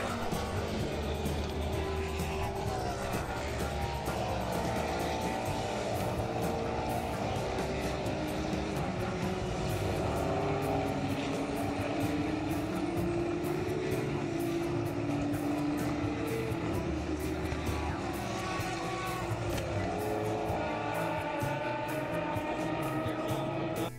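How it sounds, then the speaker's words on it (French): Hypercar engines race past at the 24 Hours of Le Mans, a dense continuous drone with rising and falling engine tones layered over one another, loud and sustained, with a little crowd murmur underneath. "je vous laisse découvrir ce morceau des hypercars et le beau son des moteurs qu'il y avait"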